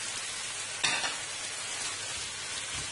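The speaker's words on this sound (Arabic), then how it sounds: "ونحركها ونخليوها حتى هي تشحر شويه" Onion and peppers sizzle in a hot pan as they are stirred, a dense close frying hiss with a brief scrape of the utensil partway through.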